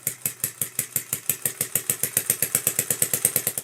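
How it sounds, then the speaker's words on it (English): A small homemade engine running purely on compressed air chugs at a fast, even rhythm, each stroke a sharp puff with a hissing release, loud and close with no voices. "I previously built an engine that ran purely on compressed air."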